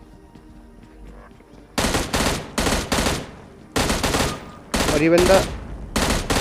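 Gunfire in a PUBG gunfight on the Erangel map, loud rapid bursts of automatic fire in several separate volleys after a quiet start, with a brief word spoken near the beginning.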